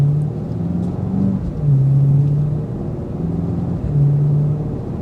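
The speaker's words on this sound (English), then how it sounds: "you're still going to hear that twin turbo V8" Inside a BMW X5 M Competition, the twin-turbo V8 gives a steady low rumble with a few gentle rises and falls in pitch as the engine note swells and eases.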